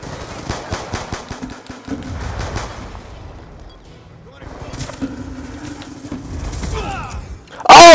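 Call of Duty Black Ops 2 gameplay with rapid gunfire bursts and thumps under a player's voice, ending in a sudden loud blast.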